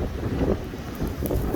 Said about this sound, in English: A lot of wind too associated with the snowstorm.